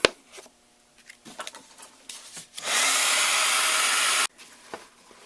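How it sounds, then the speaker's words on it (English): A heat tool blasts a steady, loud whooshing stream of hot air for about a second and a half, drying stencilled mixed-media paste on a handmade card, with quieter handling clicks and rustles before and after. "I'm going to go ahead and dry this with my heat tool"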